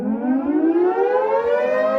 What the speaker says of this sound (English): If you hear the horn in the background, it is high noon in Hazel Green, Wisconsin.